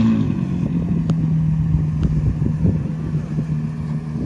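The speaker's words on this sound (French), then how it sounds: "ce que vous entendez, c'est une Carrera GT, sûrement Straight Pipe d'ailleurs." A loud, steady exhaust drone from a Porsche Carrera GT with straight-pipe exhaust at a car meet, a deep continuous rumble with a couple of sharp clicks, no talking.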